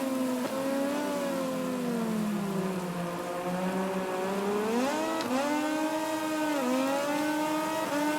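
Sustained motorbike engine revving in MotoGP 20 during a wet-weather race, a steady high-pitched whine with rising and falling pitch sweeps as gears change, loud and continuous throughout.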